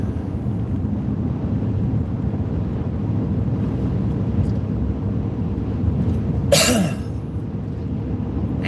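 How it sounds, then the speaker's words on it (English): Strong wind buffets a microphone outdoors on a chilly day, a steady low rumble that keeps on throughout, with one brief harsher burst of wind noise near the end. "The roads are chilly, but the wind is strong"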